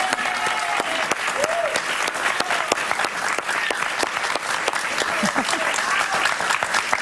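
Studio audience on a Spanish-language talk show applauds a guest being welcomed, a steady dense wash of clapping at close range with some cheering mixed in, sustained throughout.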